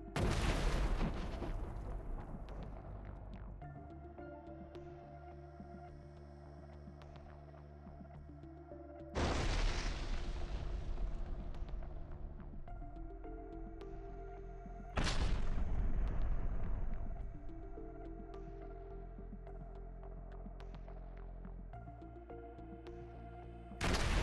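Russian FPV drone strikes hit a 120mm cannon and T-64 tanks. Several heavy booming explosions land one after another, each a sharp blast that rolls into a long, loud, fading rumble, with no talk over them.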